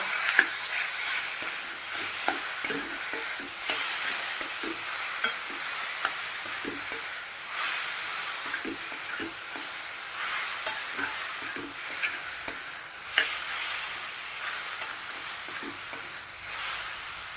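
Mashed drumstick pods being stirred and mixed in a pan for a Maharashtrian bharit, a soft continuous sizzle broken by regular scraping and tapping of the spoon against the pan.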